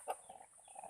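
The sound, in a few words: pelung chicken clucking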